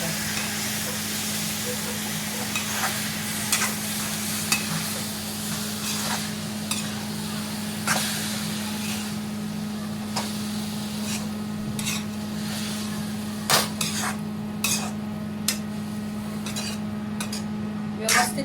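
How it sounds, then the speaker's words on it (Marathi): Broccoli and masala stirred in a pan, a steady sizzle under repeated scraping and clinking of a spoon against the metal, the strokes coming in irregular bursts over a constant low hum. "आता मी सगळं मिक्स करून घेतो"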